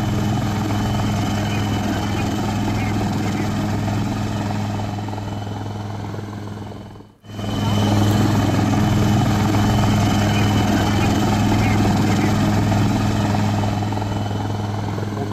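A rescue helicopter flies over flood-hit villages in Beed district during heavy rain. Its loud, steady rotor and engine drone runs throughout and drops out briefly near the middle.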